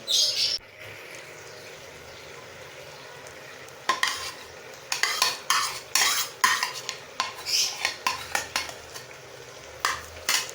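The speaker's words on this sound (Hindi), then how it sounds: "अब इन तमाम चीज़ों को अच्छी तरह एक दूसरे के साथ मिक्स कर देते हैं इस तरह से" A spoon scrapes and clinks against a pot in a steady series of strokes over faint sizzling, after a quiet start, mixing chopped tomatoes with taro and chicken.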